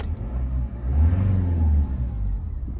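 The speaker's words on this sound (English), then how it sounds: "Let's start the car up for you." A 2015 Toyota Avensis 1.6 diesel with manual gearbox starting up; a short, close low-pitched rumble that swells as the engine catches and settles into a steady idle.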